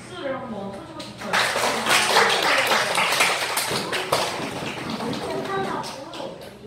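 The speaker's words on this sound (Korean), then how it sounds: "전도사님이 박수를 한번 쳐주고 싶어요" Children and adults clapping together at a children's church service, a steady burst of applause over a room with scattered voices and kids talking.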